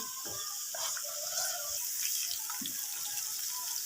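Water pours into a pot of white mash (urad) dal being lightly fried during cooking, a steady close splashing, hissing pour with no talk over it.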